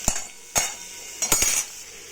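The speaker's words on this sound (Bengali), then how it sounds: "দিয়ে দিচ্ছি পরিমাণ মতন নুন ও পরিমাণ মতন হলুদ দিয়ে নাড়াচাড়া করে" A utensil scrapes and clinks against a pan while chopped potatoes are stirred in oil with salt and turmeric, giving a few sharp, close strokes with short pauses between them.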